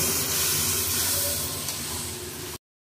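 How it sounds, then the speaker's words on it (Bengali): Spice paste fries in a pan with a little water while cooking bhetki fish bone chorchori, giving a loud, steady, close hiss of sizzling that fades slightly before cutting off. "খুব ভালো করে সামান্য জল দিয়ে মশলাটা কষিয়ে নেব।"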